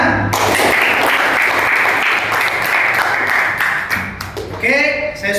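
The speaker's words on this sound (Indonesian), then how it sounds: "sama-sama kita tepuk tangan semuanya" Students in a classroom burst into loud, dense applause that holds steady, then thins out near the end as a voice starts to speak over it.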